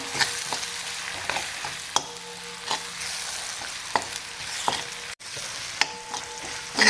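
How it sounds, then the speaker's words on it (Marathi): Tomatoes and chutney sauté in a pan over raised heat, giving a constant close sizzle with sharp periodic scrapes and taps of a spatula stirring. "आता गॅस थोडासा वाढवूया आणि टोमॅटो एक मिनिटभर छान परतून घेऊया मऊ होऊपर्यंत"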